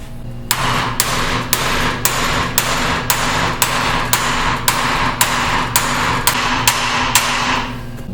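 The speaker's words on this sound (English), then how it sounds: "We're going to drive the new bearing up to that lip with a bearing driver." A bearing driver is hammered to seat a new axle bearing in a Dana 44 IFS TTB front axle on a Ford F150, with about a dozen sharp metallic strikes in an even, steady rhythm, loud and close.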